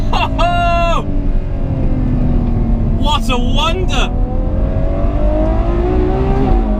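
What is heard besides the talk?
Ferrari 812 Superfast engine during gear shift on track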